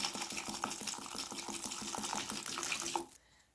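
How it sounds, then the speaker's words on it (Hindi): Water poured steadily into a cooking pot of beef and peas, a continuous splashing, gurgling pour that stops abruptly near the end, leaving quiet. "इसके अंदर मैं पानी ऐड करती हूँ"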